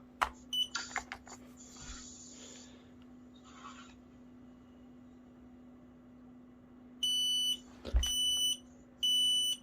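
A Kidde Trusense 2070-VASCR smoke and carbon monoxide alarm sounds during a test, giving a few loud, even electronic beeps late on after quieter handling noises.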